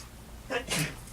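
A single sneeze from an audience member during a keynote talk at a youth leadership program, a short sharp burst heard fairly close in a quiet room.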